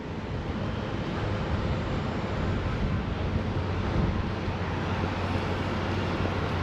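Steady wind buffets the microphone at a harbor pier beside a docked cruise ship, a continuous broadband roar with faint surf mixed in, loud and unbroken throughout.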